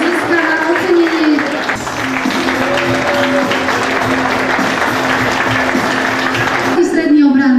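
An audience applauds an award winner at a football awards ceremony, steady clapping that runs under a voice speaking over a microphone the whole time.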